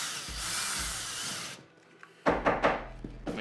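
A drill grinds steadily into wood for about a second and a half, boring a pilot hole, then stops, followed by a few scraping, knocking sounds nearby.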